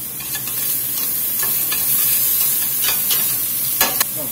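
Garlic and shallots sizzling loudly in a pan for chicken chasseur, an unbroken close hiss with a few sharp scrapes and taps of a stirring utensil, no talking.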